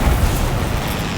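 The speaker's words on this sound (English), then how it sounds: "that's a heat round straight in the side" A HEAT round slams into a tank's side in War Thunder, a deep, sustained booming rumble that fills the moment loudly and steadily with no clear separate strikes.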